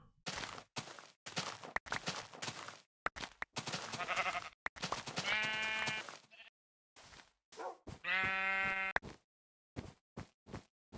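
Sheep bleat in a video game, a few drawn-out cries, each separated by short bursts of game noise, footsteps and silences.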